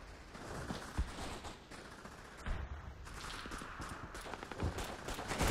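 Machine gun fire in the video game Call of Duty: Big Red One, repeated rattling bursts and sharp thuds over a busy battlefield din, loud and close with no talking.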